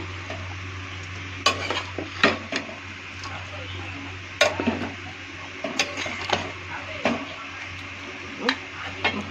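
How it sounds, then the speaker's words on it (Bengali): Chicken pieces being worked by hand with spices in a bowl, giving irregular soft squelching and scraping bursts over a steady low background hum, with no talking. "ঢেলে দিয়ে ভালো করে মিক্স করবো।"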